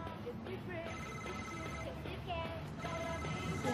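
A telephone rings in an Indonesian film scene, a repeating electronic ring tone heard beneath people talking indoors.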